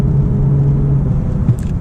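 A Lexus IS 350 F Sport drives through S-turns, heard from inside as a loud, steady low engine and road rumble with a faint hum held throughout.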